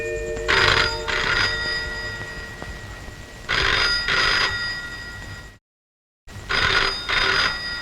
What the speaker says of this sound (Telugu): ఫోన్ మోగుతుందిరా.